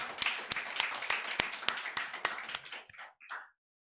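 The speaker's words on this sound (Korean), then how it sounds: "그 하나님께 감사의 박수예요" A church congregation claps in a steady rhythmic beat during a Korean sermon, about a dozen sharp unison claps before trailing off, with a brief voice at the end.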